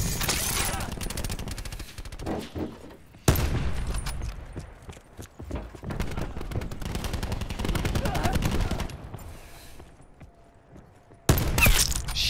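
Heavy automatic gunfire in Black Ops 4 beta multiplayer, long loud bursts of rapid shots broken by short pauses and sudden restarts, with talk mixed in.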